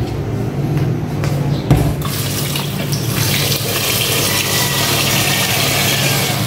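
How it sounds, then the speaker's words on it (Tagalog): Water pours steadily and loudly into a pot, a continuous rushing splash that fills the whole stretch without any talk over it. "Dito maglalagay ako ng tubig."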